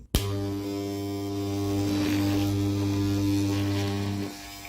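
A Moser hair clipper switches on after repair. Its motor gives a steady, loud buzzing hum for about four seconds and then cuts off abruptly, with no talking.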